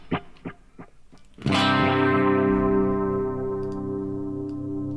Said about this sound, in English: this is with a delay before the amp.